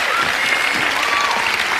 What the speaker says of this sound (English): Big round of applause for your judges, everybody.